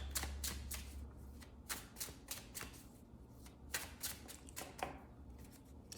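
Tarot cards shuffled and drawn by hand, giving quick close riffling bursts and soft snaps in irregular clusters, with a steady low hum underneath and no talking.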